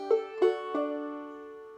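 Clawhammer banjo drop-thumb lick from the tune Duck River: three plucked notes in quick succession, the last left ringing and slowly fading, close and unaccompanied.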